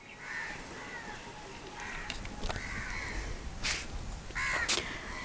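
A crow caws several times outdoors, with harsh, moderately distant calls spread across the moment over light background noise.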